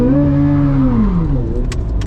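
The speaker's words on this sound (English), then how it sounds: "So that's what I'm going to do to do my burnout." A Chevrolet Corvette C8 Z06 doing a burnout: a loud, close engine roar that holds high, then sweeps down in pitch, with a couple of sharp clicks near the end.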